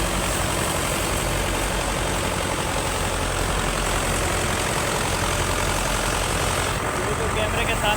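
A farm tractor engine runs at a steady, loud, low rumbling idle close by, continuous throughout with no pauses.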